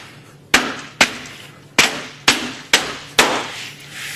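Six sharp hammer blows knock ABS plastic trim into place on a wall panel during a workwall installation, spaced roughly half a second apart, close and loud with quick ringing decays.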